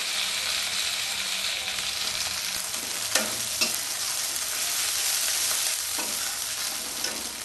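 A spice masala sautés in a pan with a loud, steady sizzle, broken by a couple of sharp stirring scrapes.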